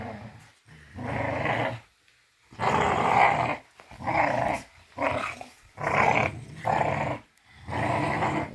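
Merle American bully dogs growl and snarl while fighting, loud and close, in repeated heavy bursts separated by brief pauses, with no talking.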